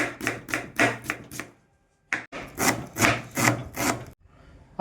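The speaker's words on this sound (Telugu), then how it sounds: "ఐదు పచ్చిమిరకాయలు చీలికలు చేసుకుందాం" A knife slits green chillies on a cutting board in two bursts of close, rhythmic scraping strokes separated by a brief pause, with no speech.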